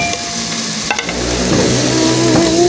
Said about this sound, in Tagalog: gisahin natin yung kamatis